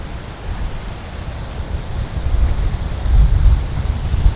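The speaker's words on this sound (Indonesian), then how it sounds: "Mungkin karena anginnya sangat kencang sekali." Strong wind sweeping across Karang Taraje beach at Bayah, Lebak, Banten: a steady low roar and buffeting against the microphone, building in gusts toward the end, with possible surf underneath.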